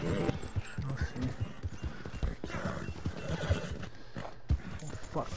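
A Mustang horse gallops and neighs in Red Dead Redemption 2, quick pounding hoofbeats under a whinny, with people talking over it.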